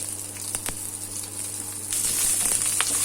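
Onions fry in hot oil in a wok, giving a steady bright sizzling hiss with faint crackles. The sizzle swells louder partway through.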